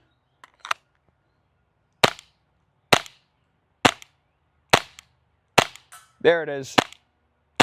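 A LEGO-built airsoft gun fires a series of about seven sharp, loud snapping shots at roughly one-second intervals, with a brief whirring mechanical rattle near the end and a short spoken phrase at the start.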